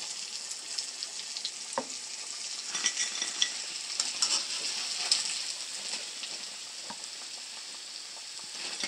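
Fish nuggets shallow-fry in hot oil, turned to cook on both sides, giving a continuous bright crackling sizzle with occasional soft spatters and pops throughout.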